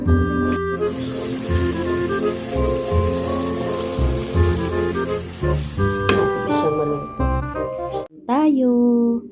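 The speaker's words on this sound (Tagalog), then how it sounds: "nilagay ko dito agad sa kawali para ipiprito para makuha yung mantika" Pork fries in a pan to render out its fat, giving a steady sizzle and crackle beneath music, with a voice talking over part of it.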